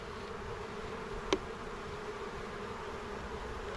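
Honeybees at an open, extremely weak hive give a faint, steady low hum with a single brief click partway through, no talking.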